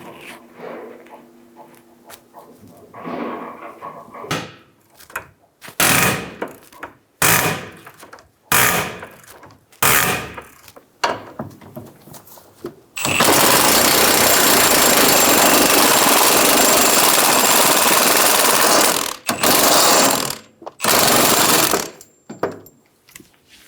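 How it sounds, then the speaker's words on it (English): Socket tool work loosening a 19mm bolt on the rear upper control arm of a 2011-2014 Hyundai Sonata: short bursts of loud impact-wrench or ratchet rattling, then a long sustained buzzing run followed by several more brief bursts, close and alone. "loosen the bolt."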